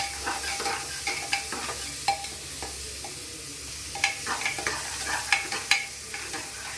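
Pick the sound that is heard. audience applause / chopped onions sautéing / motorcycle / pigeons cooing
chopped onions sautéing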